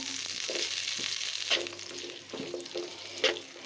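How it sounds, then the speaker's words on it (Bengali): Chopped onions and green chilies fry in a pan with a steady sizzle, punctuated by a few stirring scrapes and clatters, close and moderately loud with no talk. "পেঁয়াজ মরিচটা কিন্তু ভাজা হচ্ছে"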